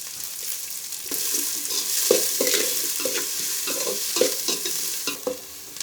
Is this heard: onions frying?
yes